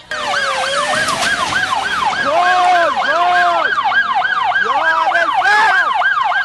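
A loud, close ambulance siren wailing in rapid repeating sweeps on a street in Tehran, with a second lower siren tone cycling underneath; no talking.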